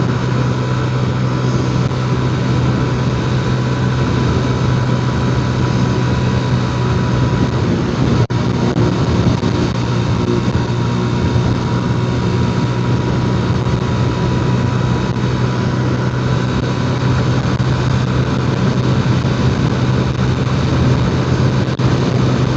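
A 125cc motorcycle with a poorly running, carburettor-troubled engine drones steadily and fairly loud throughout, a constant low hum with no pauses and no talk over it.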